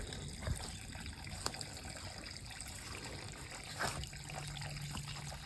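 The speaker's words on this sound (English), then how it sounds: "wanted to show the water is running and looks really nice, and wow, so refreshing" Water from a mountain spring trickles and runs steadily in a rural Portuguese community. The flow is faint and continuous with small splashes.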